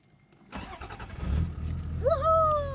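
A car engine cranks and catches in the Gobi Desert in Mongolia after an electrical fault, with a short churning start that settles into a steady idle close by, a rising whine audible over it near the end.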